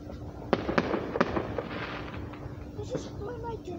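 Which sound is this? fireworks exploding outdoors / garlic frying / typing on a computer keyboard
fireworks exploding outdoors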